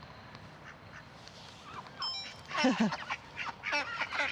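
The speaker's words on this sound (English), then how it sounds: "Oh, there's ducks right here." Ducks at a port in Le Havre, France, quack close by in a run of loud, repeated calls during the second half, following quieter outdoor ambience and a brief spoken word.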